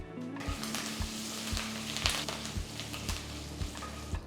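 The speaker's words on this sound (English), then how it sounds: "Once the mustard seeds start crackling, add 2 red chilies half, add 2 green chilies slit." Mustard seeds, red and green chilies, curry leaves and a pinch of asafoetida sizzle and crackle in hot oil, a steady close frying hiss with a regular low stirring tap roughly every half second and no talk.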